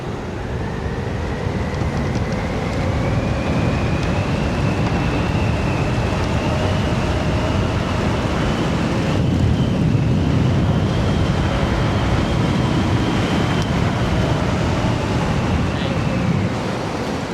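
Two 60V e-bikes, a Lyric Cycles Graffiti X and an Onyx CTY2, accelerate on throttle alone. A steady, rising electric motor whine runs for about seventeen seconds under loud, continuous wind rush.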